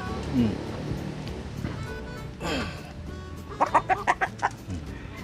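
Chickens feed on black soldier fly, with soft scattered clucks and then a quick run of sharp clucks near the end, under a person talking.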